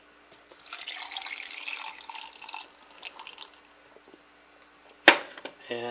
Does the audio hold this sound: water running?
yes